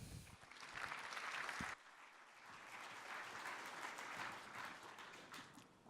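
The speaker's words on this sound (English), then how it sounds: "Please give him a big round of applause" An audience at a security conference breaks into applause: dense, steady clapping with a brief dip partway through, then continuing evenly. It sounds fairly distant and fills the room without any speech over it.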